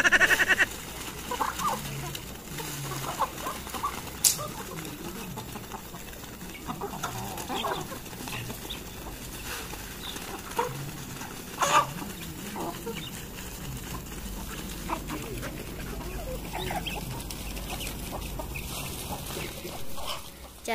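Chickens at a hillside garden hut cluck and call intermittently over rustling outdoor background, moderately close, with a few sharper squawks scattered through a long stretch of activity.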